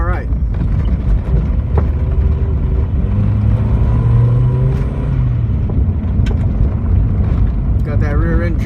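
A Honda CR-V engine rumbles loudly and close while the vehicle is driven off-road over a rough trail, its deep drone rising and settling as the driver talks over it.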